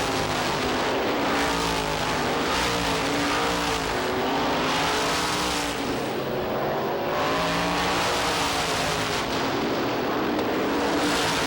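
Race cars roar down the front stretch at Lee USA Speedway during the 1993 Oktoberfest event, a dense, continuous engine din from a close pack that holds at a loud level throughout.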